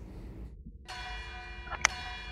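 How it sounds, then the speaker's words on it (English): Bell ringing in a sustained metallic tone, starting abruptly partway through with lingering harmonic overtones, moderately loud over low background rumble, no voices. "the sound of alarm bells echoes through the halls"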